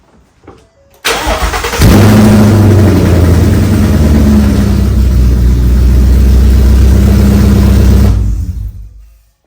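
A wrecked 2016 Mustang GT engine under rebuild, with a temporary intake fitted, cranks briefly, catches, and settles into a loud, steady idle that runs for several seconds before cutting off.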